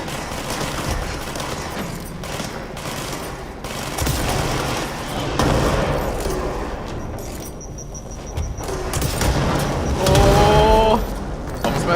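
Repeated gunfire and sticky-bomb blasts from the video game Control crackle and boom in a dense, continuous barrage of overlapping bursts, loud throughout, with game effects layered in and no voices.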